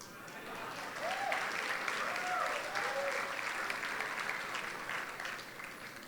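An audience applauds a political speech in a steady, sustained wash of clapping that swells after a second and holds evenly, with a few voices calling out underneath.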